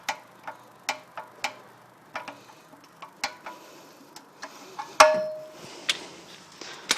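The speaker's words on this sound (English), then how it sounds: "we'll torque it on to spec using my click type torque wrench" A click-type torque wrench tightening on a 2011 Hyundai Sonata 2.0T during an oil change: a run of light, evenly spaced ticks, then one sharp, louder metallic click that rings briefly before the ticking resumes.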